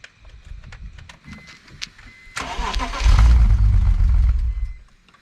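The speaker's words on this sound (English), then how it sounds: "first we're gonna do a cold start" Cold start of a BMW E46 fitted with catless headers: a quick cranking patter, then the engine catches with a loud, deep roar that settles into a heavy, rumbling idle before fading.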